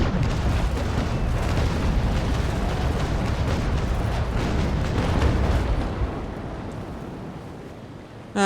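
Ship cannons firing in Naval Action: a dense, rumbling roll of heavy booms and wind-like blast noise, loud and continuous for several seconds before tapering into a lower rumble, with a sharp hit at the very end.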